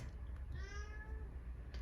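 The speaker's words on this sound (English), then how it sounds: "Can you hear the cat?" A cat gives a single clear, drawn-out meow, faint and slightly distant, over a low indoor background hum.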